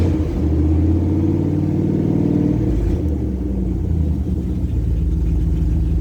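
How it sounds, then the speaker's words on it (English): A 1998 Dodge Dakota pickup with a new off-road cherry bomb exhaust revs under throttle, giving a loud, deep, continuous rumble that swells and eases over six seconds with no talking. "Let me give it a little throttle."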